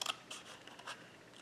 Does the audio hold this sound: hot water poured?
no